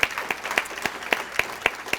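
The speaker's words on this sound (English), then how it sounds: "So let's go ahead and give everybody another round of applause." Sparse, fairly quiet clapping at a volunteer luncheon and awards event, a few distinct hand claps spaced in a steady, unhurried rhythm rather than a full crowd ovation.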